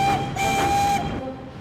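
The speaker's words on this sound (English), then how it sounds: "Then, Thomas heard some chuffing and puffing." A cartoon steam engine chuffing and puffing, a short loud burst with a sustained whistle-like tone over rumbling train noise, heard alone.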